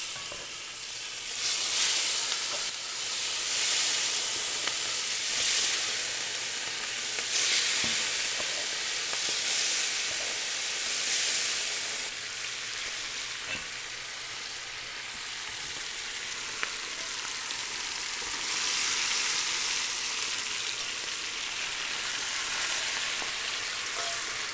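Pork fries in very hot oil in a pan for carnitas, giving off a steady, loud sizzle and crackle that swells now and then as the meat is stirred. No voices are heard.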